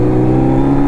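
A Hayabusa motorcycle idling with a DB killer fitted in its exhaust, giving a steady, low, subdued engine hum with a constant pitch and no revving, close to the listener.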